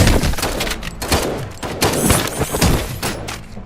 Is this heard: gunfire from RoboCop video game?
yes